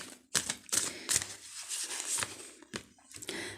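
Tarot cards being drawn and handled from a deck, a run of sharp, close snaps, flicks and slides in irregular bursts with brief rustles between, no talking.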